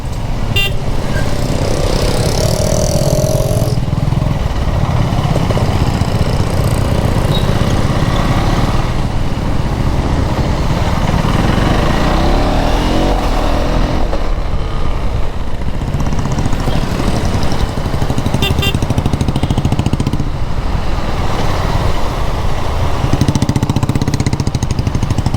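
KTM Duke 390 third-generation motorcycle with a quick-shifter, its engine revving and running loud and steady throughout, with rising and falling pitch between shifts.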